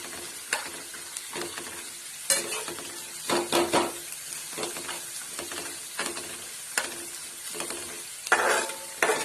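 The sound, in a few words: peanuts frying in pan for kande pohe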